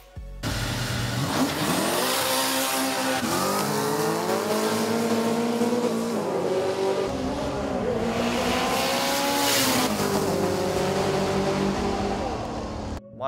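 A Mitsubishi Evo 6 drag car with a 4G63 engine, making about 440 kilowatts, screams loudly and close through repeated gear changes, with its revs climbing and dropping in sweeps across the run.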